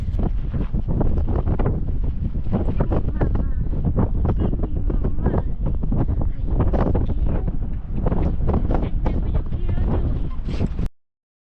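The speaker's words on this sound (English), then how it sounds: "Man, it is so windy here." Strong wind at the UFO Watchtower buffets the microphone in loud, continuous gusts, with people talking faintly beneath the roar.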